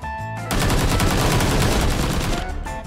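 Sustained automatic gunfire rattles in a PUBG Lite match as a loud, dense burst of rapid shots lasting a couple of seconds, with short gaps at the start and end.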